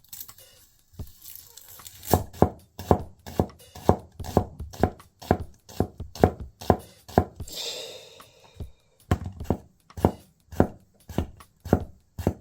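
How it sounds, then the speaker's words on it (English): A very sharp Tetsujin kitchen knife cuts through a chili pepper on a board with a run of crisp, steady chops. Each one lands as a clear close tap with a slight crunch, falling in an even rhythm with brief pauses. "It bites through the skin of this chili pepper with no problem"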